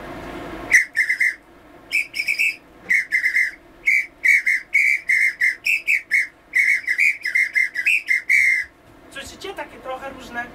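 A cross-shaped wooden-style whistle with three holes sounds a close run of short, bright toots, its pitch stepping up and down between notes in a lively, uneven rhythm before a brief scuffle at the end.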